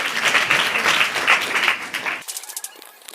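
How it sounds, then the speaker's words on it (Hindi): An audience claps to welcome a speaker to the stage, a lively, fairly close burst of applause with uneven pulses that cuts off abruptly after two seconds, followed by a few stray claps. "आप तालियों से उनका स्वागत कीजिए।"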